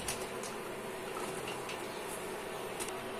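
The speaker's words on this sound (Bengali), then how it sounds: "এখন জলপাইগুলো দিয়ে কিছুক্ষণ ভেজে নিব।" Olives frying in hot oil with panch phoron, garlic, dried red chilies and bay leaves for a homemade olive pickle, a steady dense sizzle and crackle running close and unbroken throughout, with no talking.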